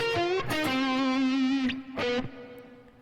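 Distorted electric guitar plays a bluesy lick from a solo, with picked notes, a long sustained bend, then a couple more notes fading out, loud and alone.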